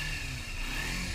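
A Kawasaki Ninja 250 two-cylinder engine with stock exhaust runs at a steady, loud, even purr, with no voices over it.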